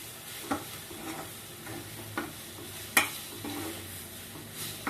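Spice powder is stirred and fried in a pan for methi bath, with a steady low sizzle broken by several sharp spoon scrapes and clinks against the pan at an uneven pace, close and without talk.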